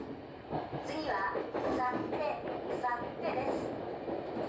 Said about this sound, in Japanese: この電車は地下鉄日比谷線直通各駅電車中目黒行きです